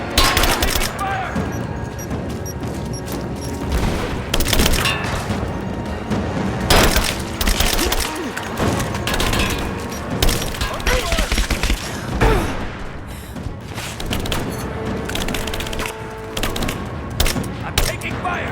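Dense gunfire and booming explosions from a Rise of the Tomb Raider battle, with sustained bursts of shots and blasts filling the whole stretch at loud, steady intensity, with shouted voices mixed in.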